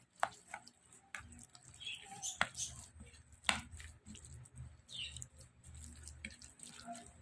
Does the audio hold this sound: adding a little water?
yes